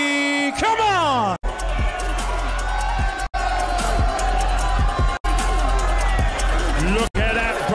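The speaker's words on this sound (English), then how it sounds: "Look at the raucous applause from the fans here at Wembley." Fans at Wembley cheer and applaud raucously as a YouTuber boxer steps onto the stage at a fight open workout, a loud continuous roar broken by short gaps, with whoops and a rising sweep early on.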